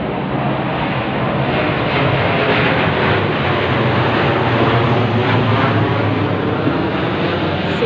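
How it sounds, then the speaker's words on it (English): Steady broadband engine roar of an airplane passing overhead, loud and continuous throughout with no voices. "you might be able to pick up the plane that is coming literally for me"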